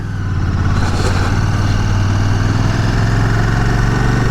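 A Royal Enfield Classic 650 motorcycle, a roughly 240 kg bike, idles with a steady, deep, throbbing 650 engine rumble, close and loud, alone with no voices.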